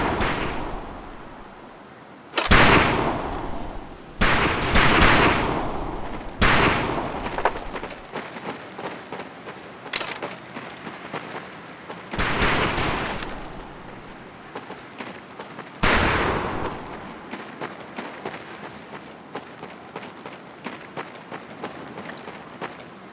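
Rifle shots ring out on a military shooting range in the Medal of Honor Pacific Assault video game, loud sharp bursts spaced irregularly, with a few scattered reports echoing between them.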